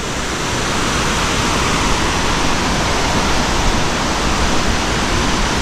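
Tad Lo waterfall in southern Laos roars as a steady, loud, broadband rush of falling water, unbroken and constant throughout with no voices.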